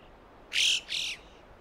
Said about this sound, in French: le chocard à bec jaune